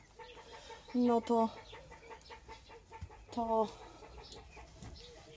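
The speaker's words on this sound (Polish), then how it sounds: "Dlaczego one się tak drą, te kury?" Hens cluck loudly in two bursts, with a brief voice and background farmyard noise in between.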